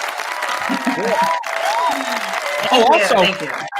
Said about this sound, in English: Let's have a round of applause for Brandy, and she's worthy of applause.